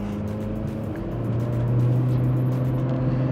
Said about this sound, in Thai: เดี๋ยวลองเหยียบคันเร่งดูช่องจังหวะของการเปลี่ยนเกียร์ดูครับ